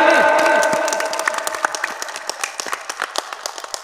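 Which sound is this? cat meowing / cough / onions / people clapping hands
people clapping hands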